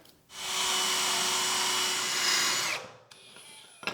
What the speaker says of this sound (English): drill a 1/2 inch hole in a piece of wood, tape it to the wall over each hole